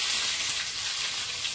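Black cumin and ginger sizzle in hot oil in a home kitchen, giving a loud, continuous crackling hiss with no talk over it.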